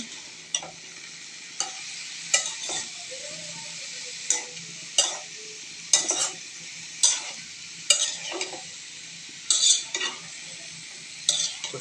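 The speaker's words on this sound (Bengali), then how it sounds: "পরিমাণ মতো লবণ দিয়ে আবার একটু নাড়াচাড়া করতে হবে আবারও নাড়াচাড়া করে নিচ্ছে" Mixed vegetables frying in a pan while being stirred, with a spoon scraping and clacking against the metal in irregular strokes over a faint, steady sizzle, close up with no talking.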